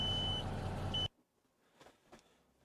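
A truck in a trucking video game sounds its warning beeps: a loud electronic tone with a short break comes over an engine rumble for about a second. After that it drops to near silence with a few faint clicks.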